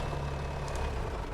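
A tractor engine drones steadily with a low, heavy rumble in a farming simulation game, loud and continuous throughout with no speech.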